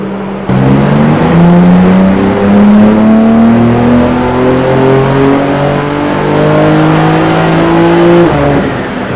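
A BMW G82 M4 Jahre Edition on a cold dyno revs hard through several rising gear pulls, a loud close engine roar climbing in pitch for about eight seconds before cutting off, no talking.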